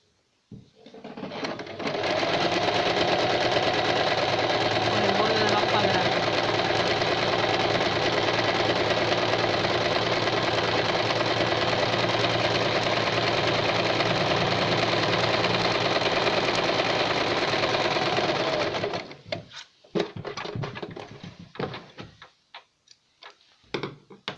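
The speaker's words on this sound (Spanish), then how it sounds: "Empiezo por el centro y voy cosiendo por el borde." A sewing machine runs steadily for about seventeen seconds, stitching along the edge of a quilted square for a kitchen oven mitt, then stops, leaving scattered light handling clicks and fabric rustle.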